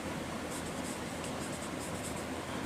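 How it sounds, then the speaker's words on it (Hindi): Continuous scratchy marker-on-board writing in a classroom lesson, a steady dry rasp with a few faint higher squeaks, close and fairly loud for a few seconds. "फिर एक लिखते हैं"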